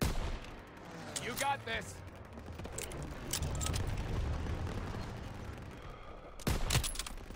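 Rapid World War II gunfire rattles in Call of Duty: WWII, with bursts of shots and explosive thuds, a heavy volley near the end, and someone speaking briefly over the combat.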